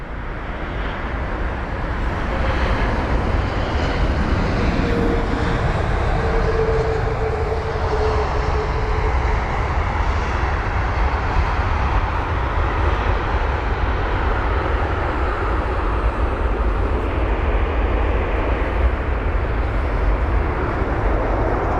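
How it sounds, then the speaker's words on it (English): An American Airlines Boeing 777-200ER arriving at London Heathrow makes a loud, sustained engine roar with a broad rushing rumble that holds steady for the whole stretch. "AA80, the American Airlines 777-200ER with the reg November 774 Alpha November. The aircraft is arriving from Dallas"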